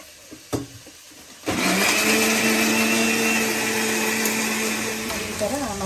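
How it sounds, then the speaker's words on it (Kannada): A kitchen mixer grinder grinding masala into a fine paste starts after a couple of clicks, then runs as a loud, steady whirring drone that continues to the end, close by. "ಇಷ್ಟೆಲ್ಲ ಹಾಕಿ ಮಿಕ್ಸಿನಲ್ಲಿ ನೈಸ್ ಪೇಸ್ಟ್ ಮಾಡ್ತೀವಿ"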